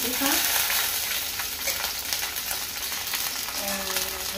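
Sliced ginger and green chilies fry for egg curry, giving a dense, steady close sizzle with light stirring throughout and no speech.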